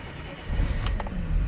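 A 1987 BMW 635 CSi, left unstarted for about three weeks, cranks and catches, settling into a steady low engine rumble close by, with no talk over it.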